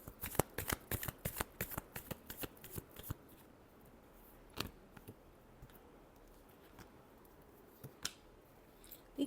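Tarot cards being shuffled by hand, a rapid run of crisp riffling flicks in the first few seconds followed by a few isolated card snaps against a quiet room background.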